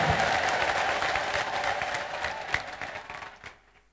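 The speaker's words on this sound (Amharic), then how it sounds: "ከዚህ በላይ ልልታና ጭብጨባ ለጌታ" A church congregation applauds steadily with dense clapping and crowd noise, joined by ululation, loud and sustained before fading out near the end.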